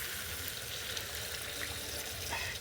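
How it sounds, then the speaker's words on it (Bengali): Water being poured into a pan of spicy quail meat curry after frying the spices, a brief steady rush of liquid over a low bubbling sizzle. "কষানো হয়ে গেছে, এখন আমি পরিমাণ মতো পানি দিয়ে দেবো।"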